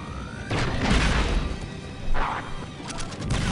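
Grenade launcher fire in the shooter Star Wars: Republic Commando, with booming impacts and crashing explosions amid ongoing battle noise, loud and close, ending in a cluster of sharp cracks.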